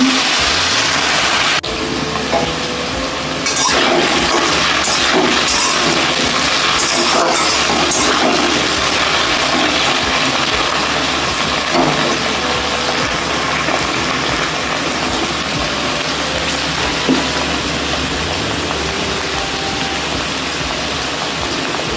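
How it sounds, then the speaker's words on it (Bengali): Potatoes with green and dried chillies sizzle in a pan as they fry, a steady crackling hiss throughout with occasional sharper pops, close and without talk. "এবার আলুগুলো আমি একটু লাল লাল করে ভেজে নেব বন্ধুরা"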